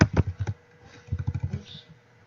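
Typing on a computer keyboard, with quick clusters of close, crisp key clicks in two bursts separated by a brief pause.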